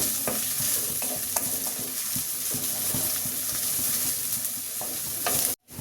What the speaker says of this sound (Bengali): এটাকে আমি বারবার ভুনতে থাকবো যতক্ষণ আদা রসুনের গন্ধটা একটু চলে যায়